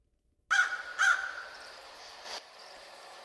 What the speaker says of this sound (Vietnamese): bỗng có một con quạ đen bất ngờ từ đâu bay đến, rồi nó kêu lên những tiếng nghe thật thảm thiết